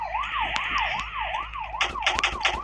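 A police car siren in the Real Gangster Crime video game wails in a fast, steady up-and-down cycle, loud and close over engine rumble, with sharp impact clicks near the end.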